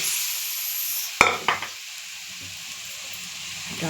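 Bitter dal being stirred and fried in a pan: a steady sizzling hiss runs throughout, broken early by a sharp metallic clank and a couple of quick scraping strokes, with no voices.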